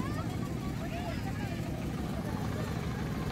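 A boat's engine drones steadily as it pulls away from Termukh bridge in Uttarkhan, Dhaka, for a village boat trip. The rumble stays close and even throughout, with faint thin sounds drifting above it.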